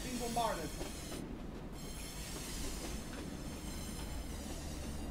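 A train in the war game Foxhole rolls along its rails with a steady low rumble and hiss, with a brief metallic wheel squeal near the start, heard continuously at close range.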